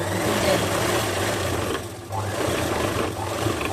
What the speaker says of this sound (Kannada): ಈ ರೀತಿ ನಾನು ಇನ್ನೂ ಒಂದು ಹೊಲಿಗೆ ಕೂಡ ಹಾಕ್ತಾ ಇದ್ದೀನಿ